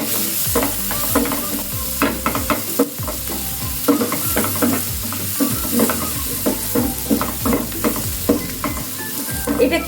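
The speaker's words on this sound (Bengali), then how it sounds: "এরপরে এর মধ্যে দিয়ে দেবো কুচনো রসুন, কুচনো আদা, 2 কাঁচা লঙ্কা আর কুচনো কিছুটা পেঁয়াজ।" Chopped garlic, ginger, green chillies and onion fry in a pan for palak paneer, loud close sizzling broken by a rapid rhythm of spatula stirs and scrapes.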